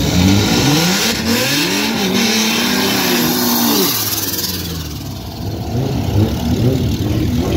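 Loud roaring engine of a 650hp Honda Integra pulling hard, its pitch climbing through second gear in one sustained run before easing off and roaring back up again.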